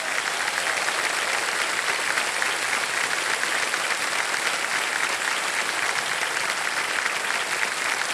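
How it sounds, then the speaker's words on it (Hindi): Studio audience applause on a televised quiz show set; dense, continuous, even clapping from a large crowd, loud and sustained throughout without pause or talk. "बहुत बहुत तालियां बज जाए इनके लिए।"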